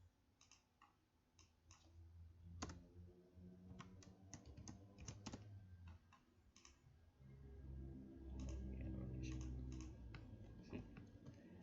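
Fingers tap a computer keyboard in quick irregular bursts of clicks while code is deleted, close and quiet with no voices.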